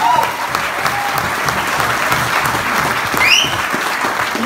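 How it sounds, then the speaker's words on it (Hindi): Steady, dense applause from a seated audience at a boot camp business talk, continuous clapping at even loudness throughout, with a few faint whistle-like tones over it. "आपकी तालियां मुझे बहुत अच्छी लगी निश्चित रूप से"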